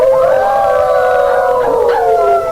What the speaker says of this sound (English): In the distance, wolves began to howl.